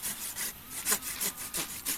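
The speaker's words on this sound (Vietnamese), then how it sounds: "ta đặt cưa vào để cắt giữa cành ghép và cái thân mẹ của nó" A hand saw cuts through a bamboo branch at the graft point, a steady rhythmic rasping of back-and-forth strokes, close and clear with no talk.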